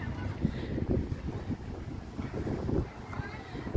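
Wind blows across a beach, producing a continuous low rumbling buffet against the microphone that swells and eases in gusts while people talk nearby.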